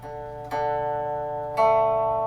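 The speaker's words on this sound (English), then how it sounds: "So when we compare those two strings, that's the sound of a 5th." Two guitar strings sounded together as a fifth interval, ringing with sustained harmonics, the second strike at about 1.6 seconds louder and brighter than the first, with no talking.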